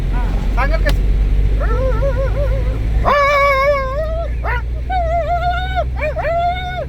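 A voice imitates two quarrelling dogs, with whining, yelping and drawn-out growling howls that rise and fall in pitch, close and loud over a low background hum.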